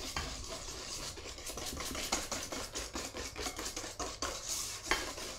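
Brownie batter stirred in a bowl, a continuous close scraping and clinking of the utensil against the bowl in quick, uneven strokes, with no talk.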